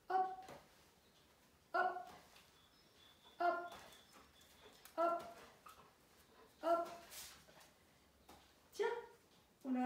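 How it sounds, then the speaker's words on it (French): A dog comes over and whimpers, giving about six short, tonal whining cries at a regular pace, fairly close, with quiet room noise between them. "Chien qui vient nous voir, je pense qu'il aimerait bien jouer avec mon papier"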